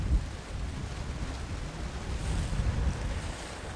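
Steady wind blowing outdoors, a broad rumbling buffet in the low end with airy hiss above, continuous for a few seconds and fairly loud, with no talking.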